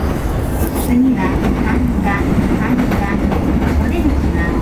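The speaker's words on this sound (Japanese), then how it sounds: "This is a 209 rapid service train for Takao." A JR Chuo Line rapid service train, a 209 series bound for Takao, runs late at night between Tokyo and Kanda stations. Steady clickety-clack of the wheels and rumble from inside the car, with faint voices over it.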